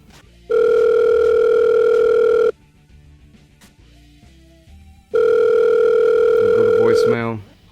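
An outgoing telephone call rings with two long, loud, steady ring tones separated by a quiet gap, with a brief voice and small noises between them.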